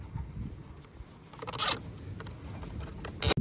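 Zip ties ratchet tight on the lower front bumper of a 2007-2011 Toyota Camry, with a few quick zipping bursts, including a loud rasp midway and another near the end, over light handling noise.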